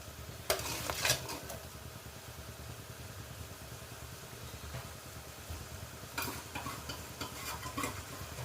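Tuna fish pickle sizzles quietly in a pan, broken by a few sharp bursts of scraping stirs near the start and again toward the end.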